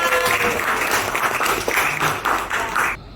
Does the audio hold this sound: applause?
yes